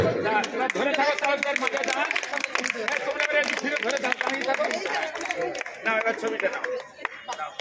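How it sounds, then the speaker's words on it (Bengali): An audience claps for young competitors receiving prizes at a ward's annual sports prize-giving ceremony, a steady scattered round of applause that fades toward the end, with a voice talking over it. "করতালি সহযোগে উৎসাহিত করবেন ছোট ছোট প্রতিযোগীদের যারা পুরস্কার পাচ্ছে।"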